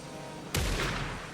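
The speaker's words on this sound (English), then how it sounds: "Oh, are they shooting at me?" A single sharp, heavy gunshot bursts out in the game Alan Wake 2 after a low ambient hum, its boom ringing and slowly decaying.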